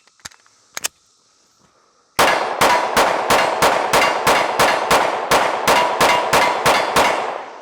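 An M&P Carry Comp pistol fires a rapid, evenly spaced string of about fifteen loud shots at a steel target plate, preceded by two faint metallic pings.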